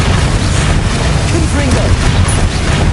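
A Bombarda spell blast in Hogwarts Legacy, a heavy rumbling boom within a busy, sustained wash of combat noise, loud throughout.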